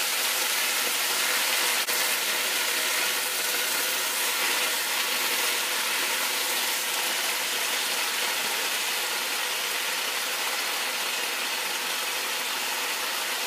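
Soy sauce goes into a hot tofu and bok choy stir fry, giving a broad, steady sizzling hiss that holds at even loudness for over ten seconds with no talking.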